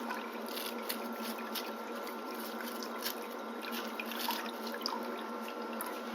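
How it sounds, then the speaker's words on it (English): A toothbrush, used for cleaning dentures, rinsed under a steadily running tap, giving a continuous close hiss of flowing water into a sink with small splashy variations throughout. "Rinsing off my toothbrush."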